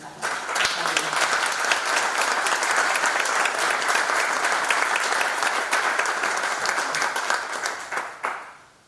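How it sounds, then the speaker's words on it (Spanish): A crowd applauds loudly and steadily for several seconds, dense clapping that fades out abruptly near the end. "Un aplauso."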